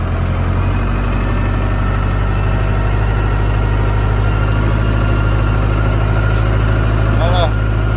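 A tractor engine runs steadily while pulling a homemade levelling board, a loud, low, continuous drone heard close with no break.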